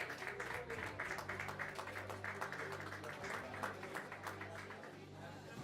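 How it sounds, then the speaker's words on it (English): Audience applause at an awards ceremony, a dense steady patter of many hands clapping that carries on for several seconds under a low hum and crowd noise. "I think you should need an applause"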